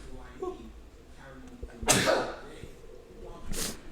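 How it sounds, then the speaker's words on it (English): A single loud sneeze bursts out between casual podcast conversation, followed a moment later by a shorter second burst; voices talk quietly before it. "Is it unprofessional to sneeze?"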